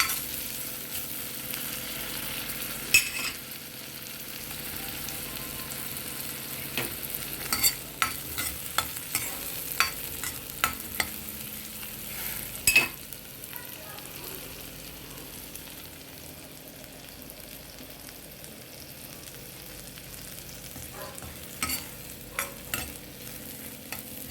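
Roasted cumin powder frying and being stirred in a pan for corn soup, a steady soft sizzle broken by scattered sharp spoon scrapes and clicks against the pan, close and without talk.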